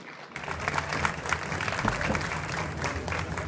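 An audience bursts into applause for the writer Óscar Collazos, with dense, even clapping that starts abruptly and carries on steadily at close range.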